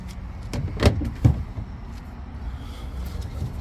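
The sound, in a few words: sliding out the storage compartment in a Honda Ridgeline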